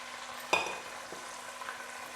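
Cut potatoes dropped into a hot spiced tempering in a pan, a sharp clatter and hiss at the start, then a quieter ongoing fry with faint stirring.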